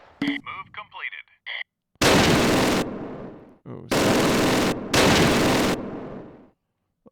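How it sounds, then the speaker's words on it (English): Bursts of World War II gunfire ring out in the strategy game Close Combat, three loud sustained volleys of rapid automatic fire separated by short pauses, preceded by a brief exclamation from a voice. "oh, look, we got a little bit of gunfire."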